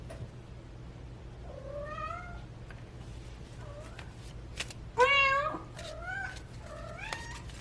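Cats meow indoors, several drawn-out, rising and falling calls spaced over a few seconds, one louder and longer near the middle, over a low steady hum, no speech.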